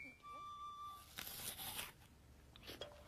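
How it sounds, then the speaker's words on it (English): A crisp crunch of teeth biting into an apple comes in a short burst, close and fairly quiet, with a few smaller crunchy chewing sounds after it and faint voices in the background. "Now, Min, bite into your apple."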